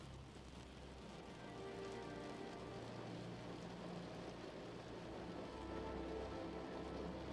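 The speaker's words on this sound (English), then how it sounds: "the sound of the rain" Steady rain falls on a surface outside a window at night, a dense, even patter with soft drops running through it and a faint low rumble underneath, continuous and close, with no voices.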